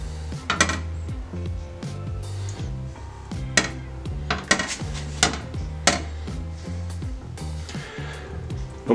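Butter and eggs being stirred in a pan over low heat with a utensil, giving repeated clinking and scraping knocks against the metal at an uneven rhythm, close and fairly loud, with no talking.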